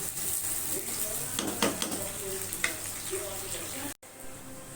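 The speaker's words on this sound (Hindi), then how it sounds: "मैंने इसमें तेल ले लिया है 1 प्याली। और उसमें प्याज डाल ली। इसको मैं फ्राई कर रही हूँ" Chopped onions frying in a cup of oil in a pan, a steady soft sizzle with occasional stirring scrapes, while someone talks over it.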